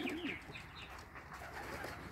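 Pigeons cooing softly inside a loft, low rolling coos near the start fading into a faint, steady background hum of birds, with no voices.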